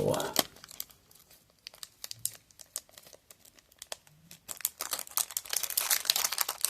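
A 1983 Topps baseball card rack pack being ripped open by hand: bursts of crinkling and tearing wrapper, sparse at first and then dense and loud toward the end, close to the microphone.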